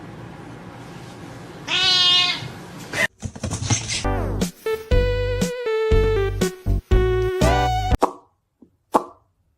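A cat meows loudly in a drawn-out, rising call, followed by clattering and plopping sounds that stop and start, then a few short sounds near the end.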